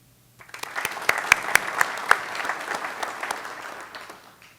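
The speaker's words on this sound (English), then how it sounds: "let's give our families a round of applause for their tireless support and dedication" Graduation ceremony audience applauding families, clapping that starts abruptly after a moment of quiet, with a few sharp nearby claps standing out over the crowd, then gradually thinning and fading out.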